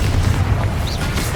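A Confringo fire spell blast in Hogwarts Legacy, a deep booming burst rolling through a steady, noisy combat din, with no clear separate hits.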